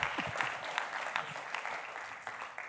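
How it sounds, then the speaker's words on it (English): Audience applause at a live games festival event, a brief burst of clapping from a crowd that fades slightly over a few seconds. "A round of applause if he's watching at home."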